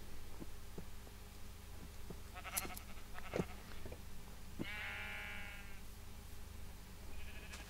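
Sheep in the Minecraft video game give a single short, nasal bleat over a quiet hum, with a few soft game clicks and taps before it.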